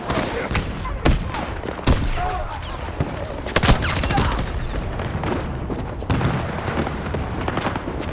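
Gunfire and a grenade blast in Battlefield 2042, dense bursts of shots and booms crowding together at close range, loud and continuous, with shouted voices mixed in.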